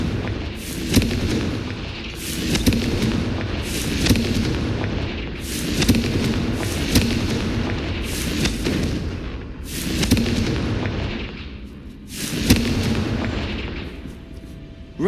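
Confringo blasting-spell explosions in the Hogwarts Legacy video game: a rapid series of loud, booming blasts at roughly one-second intervals, each with a sharp crack and rolling rumble, continuous and close.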